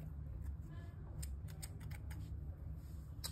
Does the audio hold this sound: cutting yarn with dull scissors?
yes